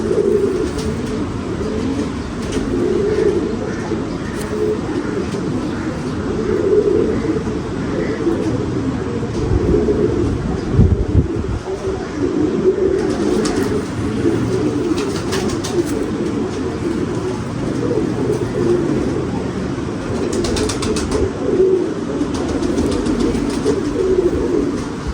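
Domestic pigeons, a first-year performer pigeon among them, coo in a low, steady murmur throughout, with a continuous mid-range rumble of other birds or distant noise beneath. Quiet voices occasionally come through.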